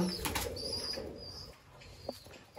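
A Madrasi pigeon in a loft flaps its wings in a short soft flurry, faint and close, with a brief coo-like note and quiet surroundings.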